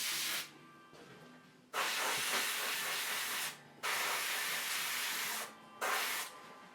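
Paint sprays onto a statue in three long, close hissing bursts, each separated by a brief pause.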